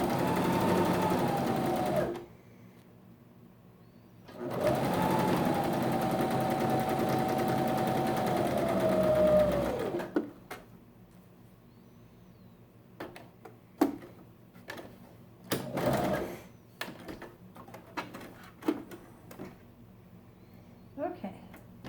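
Sewing machine stitching a 3/8 inch seam on a cup mask, two long steady whirring runs with a pause between, then scattered ticks and handling clicks as the fabric is repositioned, close by.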